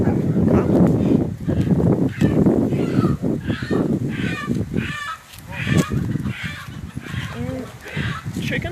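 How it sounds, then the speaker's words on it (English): A chicken caught in a net squawks and cackles in agitated bursts, its loud calls coming close and repeatedly, mixed with people talking nearby and some background noise. "Chicken's upset. He caught it in a net,"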